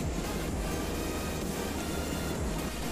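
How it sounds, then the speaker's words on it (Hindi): Water flowing out from beneath a coal mine at Moonidih, Dhanbad makes a continuous broadband rush, steady and fairly distant-sounding, with no voices. "पानी यहाँ पे बह रहा है"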